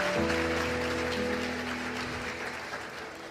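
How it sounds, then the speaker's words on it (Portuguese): Applause fills a church as the congregation claps steadily throughout, with a sustained organ or keyboard chord ringing underneath at first before dropping away. "Você pode aplaudir o Senhor por isso?"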